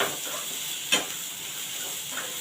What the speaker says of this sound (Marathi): कढीपत्ता आणि कांदा आपण चांगला परतून घेऊया